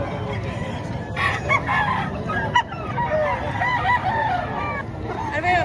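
Roosters crow and hens cluck at a live chicken market in Padre Garcia, Batangas. Several drawn-out crows overlap with nearby clucking, and faint crowd chatter runs underneath.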